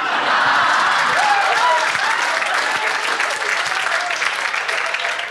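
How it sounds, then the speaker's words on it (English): A live comedy crowd-work show in Bangalore fills the room with loud, sustained applause from a large audience, steady and dense throughout, with a few faint voices and whoops rising through the clapping. "Give them a huge round of applause"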